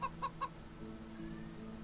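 A flame chicken in The Witch of Fern Island video game gives three quick, evenly spaced clucks at the start, fairly faint, and the rest stays quiet under a low game hum.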